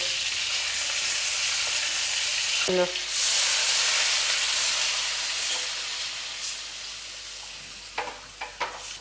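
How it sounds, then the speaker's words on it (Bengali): A loud burst of hissing sizzle as water hits hot oil with frying chicken drumsticks, settling into a steady steamy bubbling, with a few utensil knocks near the end. "একটু নেড়ে আমি জল দেবো এর মধ্যে"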